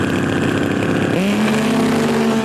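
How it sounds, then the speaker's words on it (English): A race car engine revs hard during a burnout, a loud sustained roar that drops and settles into a steadier, higher whine partway through. "it's all about the basics, like getting a good burnout"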